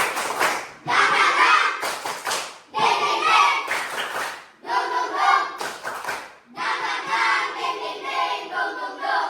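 A classroom group claps a rhythmic spirit cheer in bursts, loud and close, with several hand-clap patterns separated by short pauses and children's voices mixed in.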